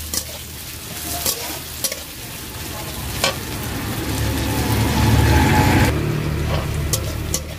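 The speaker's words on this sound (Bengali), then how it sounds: "তো এগুলোকে আমি একটুখানি ভালো করে ভাজা ভাজা করে নেবো" Onions and green chilies are stir-fried in oil in a village-style kitchen, with a steady loud sizzle and intermittent scraping strokes of a spatula in the pan, growing slightly louder toward the end, no talking.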